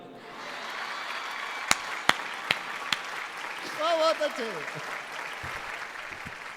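Audience applause fills a women's poetry recital for International Women's Day, a steady wash of clapping with a few sharp individual claps, briefly overlaid by a spoken word of praise.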